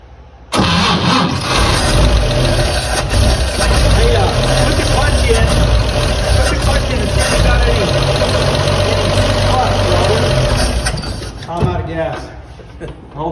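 A 1954 Chevrolet 3100 pickup, parked since 1978, cranks and fires into a loud, rough idle that runs steadily for about ten seconds before dying away, with voices talking over the engine.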